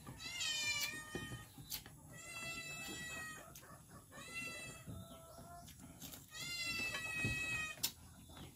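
Cat meowing several times in a row, a mix of drawn-out and shorter calls, close and fairly clear over faint background noise.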